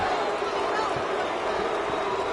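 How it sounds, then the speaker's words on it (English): Restless arena crowd during a fight in the EA UFC 6 video game, a steady wash of murmuring crowd noise with faint thuds, fairly loud and unbroken. "Crowd getting a little bit restless."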